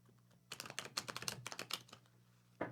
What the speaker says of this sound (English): Going to give these a good shuffle.